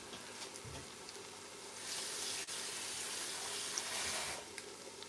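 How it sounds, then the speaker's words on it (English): Water poured into a pot of egusi soup as it fries, making a steady hissing, sizzling rush that swells at about two seconds and holds before easing near the end, close by with no talking. "I can go ahead to add a small water"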